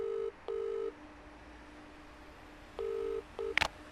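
Electronic landline telephone tones in the story game To Catch A Crashing Star: two pairs of steady beeping bursts separated by a quiet gap, ending with a short sharp click, alone with no talk.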